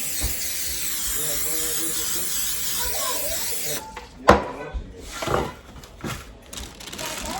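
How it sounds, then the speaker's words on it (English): A long, steady hiss of cooking spray onto a sheet pan runs for several seconds, then stops; a clatter and some handling noise follow. "First thing I'm gonna do is spray this sheet pan."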